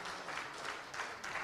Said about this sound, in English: Can we have a round of applause for day 1, for our amazing organizers,